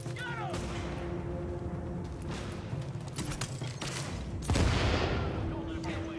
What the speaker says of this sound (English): Keep firing at him.